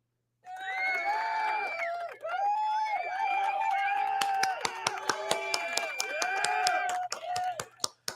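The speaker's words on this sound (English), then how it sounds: "Clap it up for Tax Stone." A few people clap on a podcast set for Tax Stone, with crisp, uneven hand claps that come in over ongoing talk and then stop.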